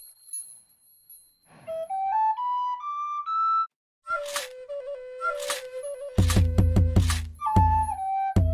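A bone whistle played in the game Sevtech Ages, sounding as a series of pure, rising whistled tones and held pitches, followed by louder bursts of sharper whistle notes with breathy attacks.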